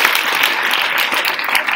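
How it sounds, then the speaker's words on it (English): An audience applauds poetry contestants at a reading event, a brief, dense burst of clapping that is loud and close, with some voices blended in. "So round of applause to you guys"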